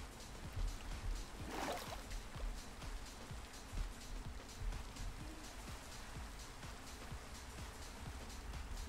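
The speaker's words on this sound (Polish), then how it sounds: "Tylko pada deszcz." Steady rain from the video game Minecraft patters evenly and quietly throughout, a soft continuous hiss with scattered drop ticks and no talk over it.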